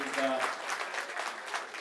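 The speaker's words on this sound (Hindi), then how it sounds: "एक बार जोरदार तालियों से इनका स्वागत करिए" Steady applause from a crowd fills the clip, with a voice briefly heard at the start over the clapping.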